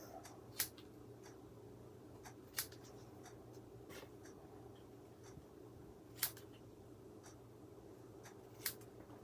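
Scissors cut pieces off a paper teapot box die in a quiet room. Several sharp, isolated snips are spaced a few seconds apart, with faint rustling of paper between them.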